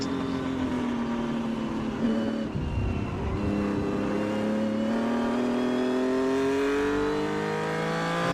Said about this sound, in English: it's taking a bit more RPM, and I think the stroke is a little shorter on this engine by sound